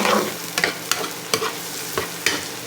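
Onion and garlic sautéing in a pan, a close steady sizzle punctuated by a regular series of scraping stirs, about six strokes in under three seconds.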